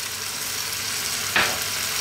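Garlic and onion frying in a pan for a pasta meat sauce, a steady close hiss of sizzling with one brief louder burst as more goes into the hot pan.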